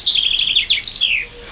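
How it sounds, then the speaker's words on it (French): Common chaffinch singing in the open: a bright, rapid descending series of high chirping notes with a brief pause, then another fast trilling run, close and clear against faint background. "Pinson des arbres."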